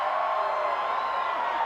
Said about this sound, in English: being taunted by this capacity crowd